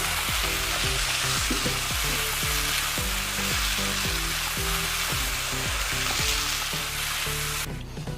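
A ground green tomato mixture for chutney fries in a pan, a dense loud sizzle overlaid with regular rhythmic spatula strokes roughly twice a second, close up with no talking, ending abruptly.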